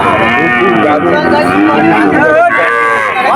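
Local breed calves moo loudly and continuously at a crowded cattle market in Betaga, with dense chatter and livestock noise all around.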